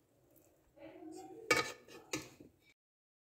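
Chicken matar pulao rice is served onto a plate, with a couple of sharp metal-on-dish scrapes and clinks close by after a short stretch of quiet handling.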